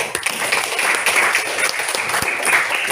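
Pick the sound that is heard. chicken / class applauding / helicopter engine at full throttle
class applauding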